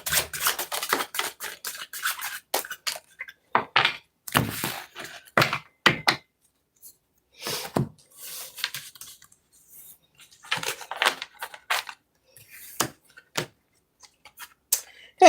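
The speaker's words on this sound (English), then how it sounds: "Couple more shuffles, couple more shuffles, couple more" Tarot cards are shuffled and tapped by hand in quick, irregular bursts of soft slaps and riffles, with short quiet gaps between them, close and fairly faint.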